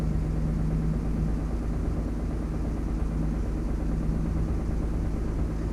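A 1992 Nissan 300ZX Z32 with an EGR delete runs at a steady idle after a cold start, giving a continuous low engine drone and hum with no revving and no voices.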